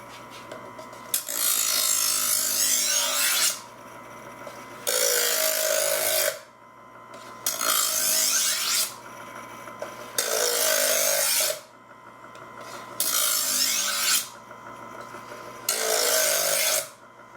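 A kitchen knife is sharpened on a whetstone, one side at a time, in long rhythmic grinding strokes, six or seven steady rasping passes separated by short pauses, close and clear with no talk.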